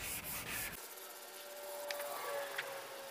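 Primer on a car body panel is block sanded in an X pattern, giving a brief burst of dry rubbing strokes that fades to quiet light scratching, close and fairly soft.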